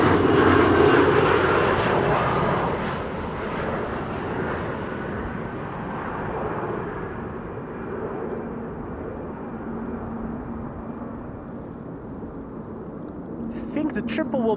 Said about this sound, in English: This is KLM flight 1710 arriving from Luxembourg